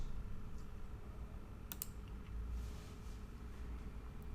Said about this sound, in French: Je vais taper ici Lightbox.